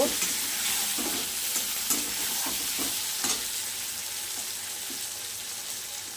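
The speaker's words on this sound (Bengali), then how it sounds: "দেখুন পটল থেকে সব তেল বার হয়ে আসছে, সুন্দর করে ভেজে নেব।" Pointed gourd frying in oil with ground spice paste, for a fish curry with potato, gives a steady soft sizzle, broken by occasional scrapes and knocks of a spatula stirring in the pan.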